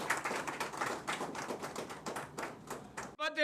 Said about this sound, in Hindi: मैं चाहता हूँ जोरदार तालियों से अभिनंदन करें।